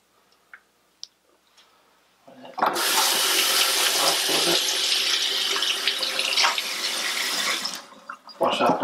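Water runs from a sink tap while washing off spilled chemicals from a Unicolor C-41 film developer kit, a steady rushing stream that starts abruptly after a few faint clicks and stops near the end.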